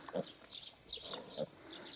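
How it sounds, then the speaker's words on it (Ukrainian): Hungarian Mangalica piglets make short high squeals and grunts in a few scattered bursts, fairly quiet and close, with no talk over them. "кого цікавлять поросята угорської мангалиці"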